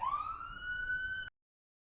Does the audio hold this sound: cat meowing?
no